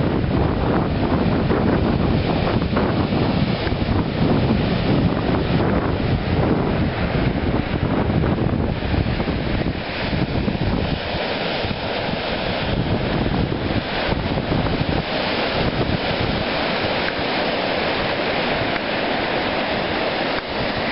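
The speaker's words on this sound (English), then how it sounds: "the sound of the waves are just gorgeous." Ocean waves rolling onto a Nova Scotia beach, a continuous loud roar of surf churning and washing with heavy wind buffeting the microphone throughout, no voices.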